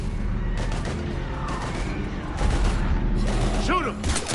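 Heavy gunfire during a firefight in the Mass Effect 3 video game, sharp bursts and rapid shots over a rumbling battle bed, with voices talking over the combat.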